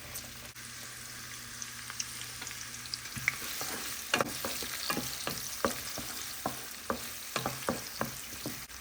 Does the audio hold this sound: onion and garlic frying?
yes